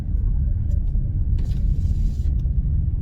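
Steady low road rumble inside the cabin of a 2020 Toyota Hiace van on the move, a continuous bouncy drone with faint higher rattles and no talking.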